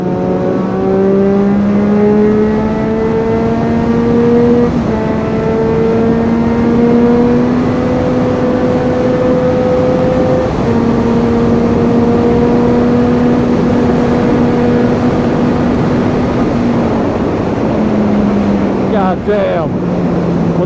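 A 2017 Triumph Street Triple S naked motorcycle on a top speed run, its engine droning loud and steady with rising pitch through several gear shifts, brief dips between gears, and heavy wind rush throughout.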